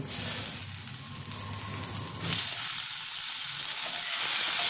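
Garlic and onion paste hits hot frying oil with a loud, steady sizzle that swells stronger partway through and keeps crackling continuously.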